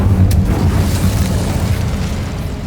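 An Incendio fire spell erupts in Hogwarts Legacy, a loud, sustained booming blast with a dense low roar that holds steady for a few seconds.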